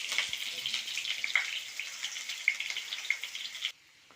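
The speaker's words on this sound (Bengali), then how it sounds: "আলুগুলো আমি নুন হলুদ দিয়ে লাল লাল করে ভেজে রাখবো।" Potato pieces coated in salt and turmeric fry in hot oil with a steady, crackling sizzle that cuts off abruptly near the end, leaving near silence.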